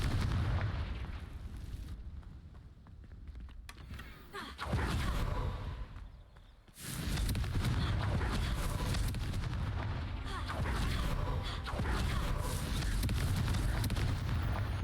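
Fiery Confringo spell blasts in Hogwarts Legacy go off as booming explosions with crackling bursts, fairly loud, mixed with game sound and occasional talk.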